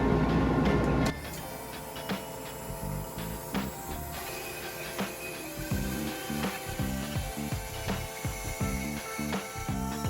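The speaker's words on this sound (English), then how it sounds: "now we're going to use the bandsaw to cut a half-inch off of it" A bandsaw runs with a steady mechanical hum and a rhythmic rattling clatter as it cuts a slice off a block of wood for a box lid, loud and close with no talk.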